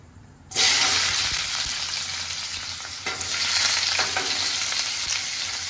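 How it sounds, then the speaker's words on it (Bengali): Onions hit hot oil in a pan for homemade butter chicken, bursting into a loud, close, continuous sizzle after a brief quiet start and frying steadily throughout. "এটা আমি এখন একটু লাল লাল করে ভেজে নেব"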